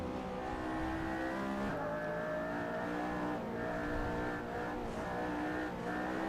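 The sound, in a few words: car engine at full throttle in Assetto Corsa video game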